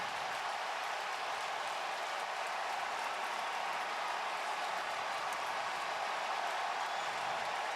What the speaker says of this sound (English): that roar, the crowd you hear